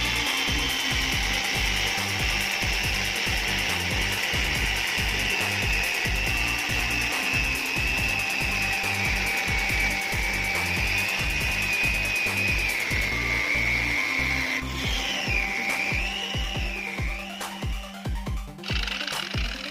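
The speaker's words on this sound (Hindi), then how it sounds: "इस तरह से यहाँ पे ये झिरी काट दिया गया" A wall chaser machine grinds a groove into a wall, with a loud, steady, close abrasive cutting whine that holds for most of the stretch before shifting pitch and easing off near the end.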